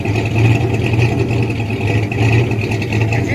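A rebuilt engine in a 1979 Ford F150 pickup idles with a steady, loud, close rumble and slight uneven pulsing, running alone without any voices.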